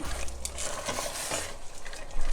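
A spoon stirs gravy into beef stroganoff in a pan, scraping and clinking in quick irregular strokes. Faint sizzling sits underneath, and there is no talk.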